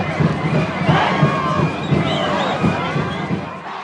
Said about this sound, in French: La foule en délire l'acclame